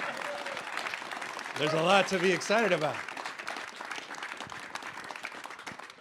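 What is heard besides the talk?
audience applause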